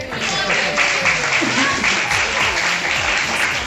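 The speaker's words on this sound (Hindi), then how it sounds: "इनके लिए बजाएं पहले तालियां।" A crowd at a community bicycle-ride gathering claps for helmet-wearing riders, a steady wash of applause throughout, with some voices mixed in.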